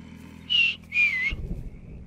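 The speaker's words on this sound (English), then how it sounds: "Whistle to draw enemies." A player character in Mafia 3 whistles to lure enemies: two clear, bright whistled tones, a short one and then a longer one that slides slightly downward, over quiet game ambience that grows busier afterward.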